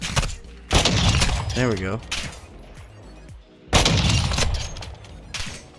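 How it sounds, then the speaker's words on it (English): Gunfire in the Call of Duty: MWII DMZ video game: loud bursts of shots open the clip and return in a heavy volley near the end, with a person talking over the gaps. "Where am I getting shot at? Where am I getting shot from?"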